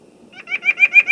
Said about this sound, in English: This is red-breasted nuthatch.